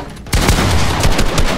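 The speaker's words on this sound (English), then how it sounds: "I just missed like 15 shots" Rapid video game gunfire from a Call of Duty-style wager match, a loud burst of overlapping shots that starts abruptly after a brief quiet moment and keeps firing densely to the end.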